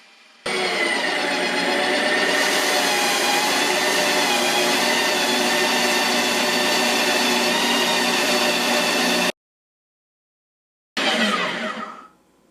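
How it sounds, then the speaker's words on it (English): A loud Ninja Creami ice cream maker whirs steadily like a blender for several seconds, stops abruptly into silence, then briefly starts again and winds down. "The unit is loud, just like a blender."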